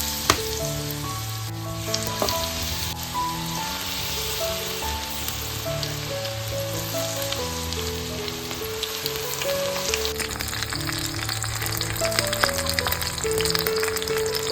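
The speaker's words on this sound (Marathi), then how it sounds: "इकडे आता मस्त मस्तपैकी तव्यामध्ये तेल घालून घेतलंय आपण कोळंबी फ्राय करायला घेतोय" Prawns fry in oil on a tawa with a dense, continuous sizzle like heavy rain, steady and close throughout. Occasional stirring clinks come through, and no one speaks.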